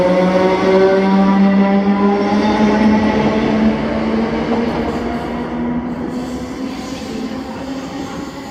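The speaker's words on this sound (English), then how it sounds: "And then departing was 1W29, the 1310 Scottish service to Wimsby from Glasgow Central." A passenger train pulls away from Paisley Gilmour Street station. Its motor whine rises steadily in pitch as it accelerates, loud and close at first, then slowly fading as it moves off, with no talking.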